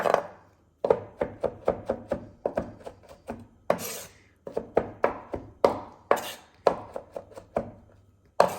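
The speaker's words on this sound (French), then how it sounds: "je vais venir hacher l'ensemble de la chair d'aubergine" A knife chops through cooked aubergine flesh on a board in quick bursts of sharp, close taps separated by short pauses.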